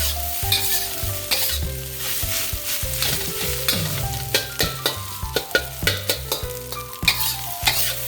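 A metal spatula chops and scrapes rhythmically against a hot griddle while fried rice sizzles steadily, the sharp clacks growing quicker toward the end.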